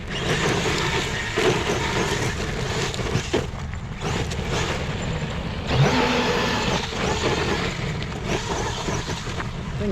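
Kyosho Foxx VE electric RC car tearing across rough ground and climbing hills, a steady loud motor whine and tire rumble throughout with bumps and surges, close to the listener.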